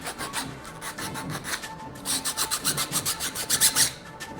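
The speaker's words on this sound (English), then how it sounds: "I'm just going to scuff up this surface." Sandpaper scuffing a surface on a Newtonian telescope build, a close, rhythmic hiss of quick back-and-forth rubbing strokes that grows faster and louder in the second half.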